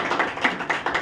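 A church congregation claps hands in a steady, brisk rhythm, about four or five sharp claps a second, with no voices over them.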